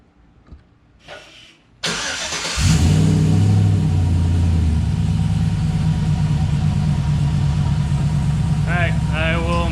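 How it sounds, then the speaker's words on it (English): A pickup truck engine cranks and catches after a short quiet pause, then settles into a steady, loud, close idle; a voice speaks briefly over the running engine near the end. "Give it a, not a cold start, but a semi-cold start"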